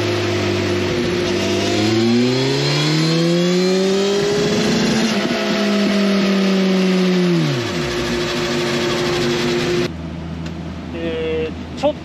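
A Katana's engine with a replacement muffler revs steadily upward through the gears on a chassis dyno, loud and sustained, dropping sharply near the end before idling briefly.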